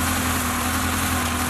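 A motorcycle engine idles during a riding lesson in 1981, a loud, steady, close hum with a constant low drone and no talking over it.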